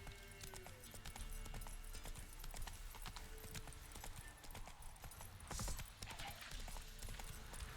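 Horse hooves clip-clopping at a steady trot in the video game Witcher 3, faint and continuous, with a brief whinny-like sound mixed into the game's ambient soundscape.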